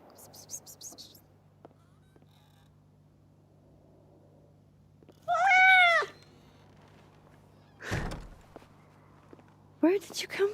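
A grey cat in the video game Life is Strange Double Exposure gives a single clear, close meow midway, followed by a few soft incidental sounds and a short rustle near the end.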